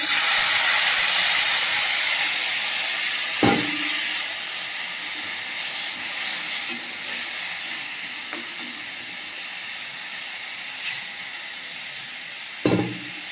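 Water poured onto fried spice paste in a hot pan sets off a loud, steady sizzle and steam hiss that slowly eases, broken by a few sharp clinks of a utensil against the pan.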